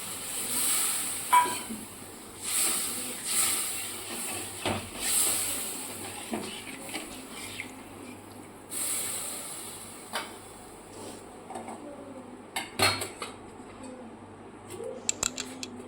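Water is poured into fried spice paste in a pan while making fish kalia, producing repeated bursts of loud steamy hissing that fade into a quieter simmer, with occasional scrapes and clinks.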